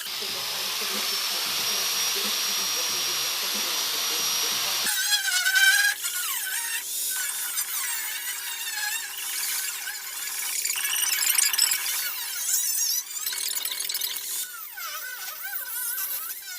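A power tool cuts through a car bumper, first as a steady, loud hissing grind, then as an uneven, squealing, warbling cut with rising and falling pitch, close up.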